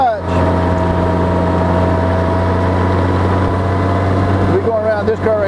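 A Honda GoldWing motorcycle engine hums with a loud, steady low drone as the clutch is let out, and a voice comes in briefly near the end.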